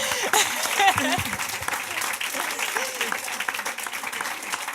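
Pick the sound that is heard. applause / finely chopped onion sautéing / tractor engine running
applause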